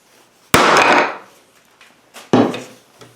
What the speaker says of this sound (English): I think you just hit it with the hammer, right?